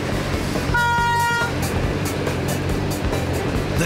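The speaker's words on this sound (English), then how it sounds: "Ajay, stop that train." An animated cartoon train runs with a steady rumbling, rhythmic chugging, broken by a brief, tonal horn-like toot partway through, loud and close.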